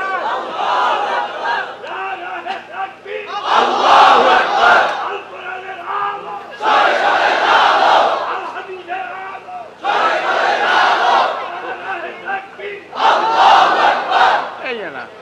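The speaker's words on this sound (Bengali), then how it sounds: "মুরব্বি উঠি একটু তাকবীর দেন না" A large gathering at a religious sermon roars the takbir in loud, rhythmic bursts, four surging chants separated by short pauses, with a preacher's voice leading between them.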